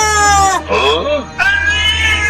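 A cartoon cat lets out three drawn-out, wavering meows, loud and close, voiced by a performer imitating a cat, with the middle cry sliding downward.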